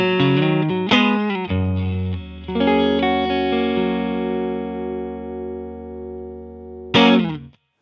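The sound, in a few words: electric guitar through Rodenberg 707 clean boost pedal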